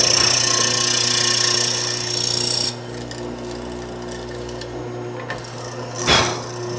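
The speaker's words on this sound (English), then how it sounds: "so we're going to go ahead and mortise" A loud, steady mortising machine grinds through wood for a few seconds, then cuts out, leaving a lower hum and a brief clunk near the end.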